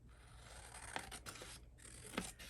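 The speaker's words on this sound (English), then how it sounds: "So I am just going to use my scissors," Scissors trim a small sliver off a paper bag in a quiet room, with two or three faint, crisp snips spaced apart against a soft background hiss.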